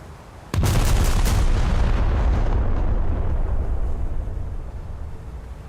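The battleship HMS Barham fires its main guns in a naval warfare game. A single sharp, loud salvo bursts out and rolls into a long, heavy rumbling boom that slowly fades over several seconds.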